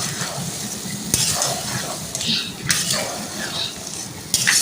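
Potatoes cooking in frying masala in a home kitchen pan give a steady sizzle, with sharp scrapes and clinks of a spoon stirring against the pan at intervals.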